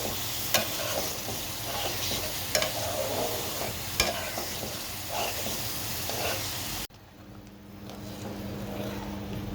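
Onion paste with ginger, garlic and ground spices sautéed in a pan for a chicken ball dish, steady sizzling with regular scraping stirs and occasional utensil knocks, then a sudden cut to a quieter, duller sizzle near the end, with no talk.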